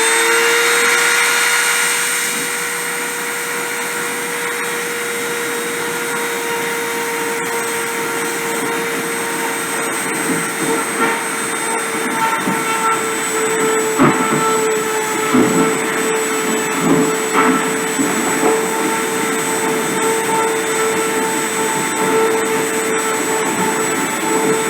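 A machine spindle spins at 30,000 RPM during a deposition run on a WIN ProClip, giving a steady high-pitched whine with a tonal hum, joined by irregular crackles and clicks midway.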